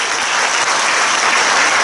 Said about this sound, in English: can we give our presenters another round of applause, please?